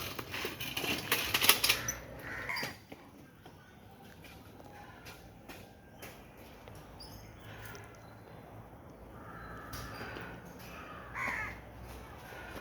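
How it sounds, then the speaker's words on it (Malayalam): Many crows caw in bursts from near and farther off around a large mango tree, the cries loudest in the opening seconds and then scattered and fainter over a low outdoor hum. "ഇവിടെ മാത്രമേ ഇത്രയും കാക്കകൾ ഉണ്ടാകൂ."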